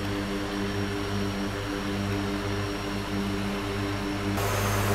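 The twin turboprop engines of a Twin Otter in the X-Plane flight simulator drone steadily during a climb, a loud continuous hum with a constant tonal whine throughout, no talking.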